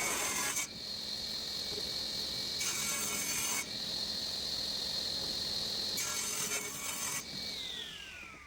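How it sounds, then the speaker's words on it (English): Long, steady rasping strokes of a tool cutting a bevel into the underside of an ash table, three separate passes with a continuous whining hum in between, close and moderately loud. "Here I'm cutting the bevel on the underside of the table."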